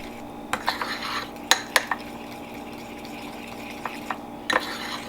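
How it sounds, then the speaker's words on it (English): A whisk clinks and scrapes against a bowl while confectioner's sugar is stirred into an apple fritter glaze, giving sparse, close metallic taps and clatters over a quiet background. "by whisking in a little at a time"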